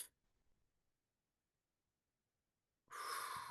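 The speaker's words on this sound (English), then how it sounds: "So you may take a breath in" A loud, close nasal inhale through the nose after a near-silent pause, rushing in strongly at the end, preceded by a faint trailing breath.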